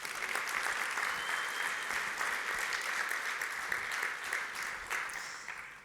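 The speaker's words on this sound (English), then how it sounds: "I'd like to do a really big shout out and hand of applause for the entire RLA team" A keynote audience applauds the RLA team, a dense, sustained wash of clapping from a large crowd heard at a slight distance, holding steady before easing off at the end.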